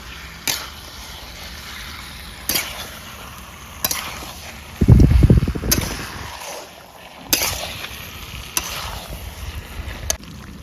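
Spoon scraping and stirring in a pot of village-style chicken curry with potatoes, sharp clinks recurring every couple of seconds over a quiet bubbling simmer, with one louder burst of stirring midway.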